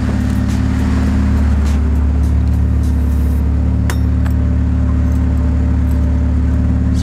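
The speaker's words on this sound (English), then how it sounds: "So full throttle for a couple seconds off the limiter, and then let the idles drop, and then kill the car." A car fitted with a Ktuned throttle body, held at full throttle against the rev limiter, gives a loud, steady engine drone that fills the whole stretch with no break and no talking.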